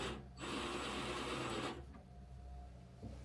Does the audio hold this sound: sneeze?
no